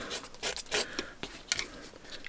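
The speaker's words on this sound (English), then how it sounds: "Scrape it on these bits here like so. Run that along there." Scraping a part of an Airfix starter-set plastic model kit, likely the fuselage halves: close, dry rasping strokes in short irregular bursts, moderately quiet, no talking.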